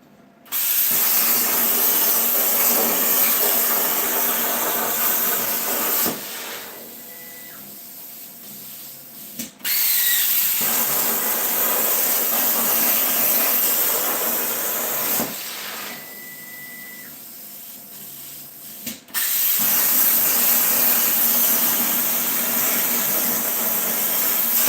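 Crossfire Pro CNC plasma cutter slicing belt grinder parts, a loud steady hissing roar in two long bursts, each dropping abruptly to a quieter air hiss between cuts.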